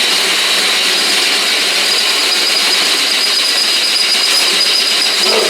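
A loud, continuous high-pitched grinding whine of a power drill boring holes in scrap metal for a homemade metal brake, steady throughout with no talking.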